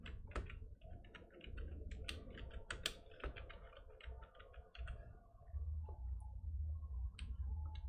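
Keys on a computer keyboard are tapped in quick irregular bursts with brief pauses, close and quiet, while Java code is entered.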